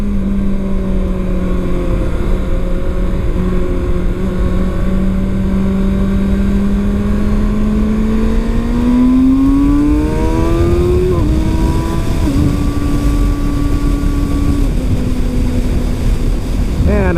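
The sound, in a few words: Kawasaki Ninja ZX-6R motorcycle accelerating through gears on freeway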